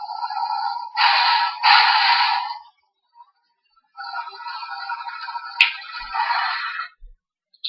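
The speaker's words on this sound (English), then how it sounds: "when you press it, he will make truck sounds" A Transformers Dark of the Moon Leader Ironhide toy truck plays an electronic truck sound effect from its button, two loud tinny bursts separated by a short pause, close up with no talking.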